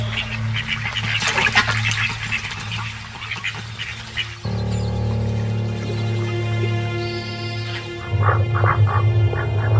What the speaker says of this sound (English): Feeling safe, the ducks focus on their own displays of dominance and bravado.